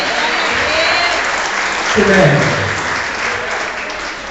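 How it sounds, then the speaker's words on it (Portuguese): A church congregation breaks into applause, a full, close burst of clapping that swells mid-way then settles, with a preacher's voice speaking over it. "vamos aplaudir Jesus por isso aqui agora"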